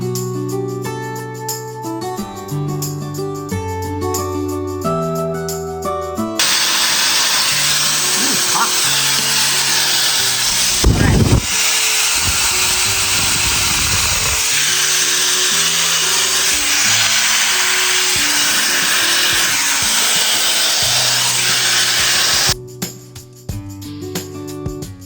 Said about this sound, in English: I'm gonna give a very good blow dry on these roots